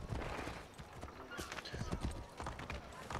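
Hooves of a horse ridden in Assassin's Creed 3 clip-clop at a steady walking rhythm, moderately close, with a voice talking over the hoofbeats throughout.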